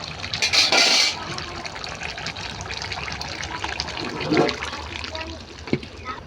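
Papaya and chicken-feet curry is tipped from a pot into a bowl, with a brief wet gush and splash up front followed by softer sloshing and kitchen clatter.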